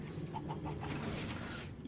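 A Minecraft chicken gives a few soft, quick clucks that fade into a brief wing flutter, quiet and close.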